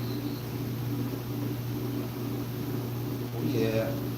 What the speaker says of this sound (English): I got a fan going. The wife's washing machine's going.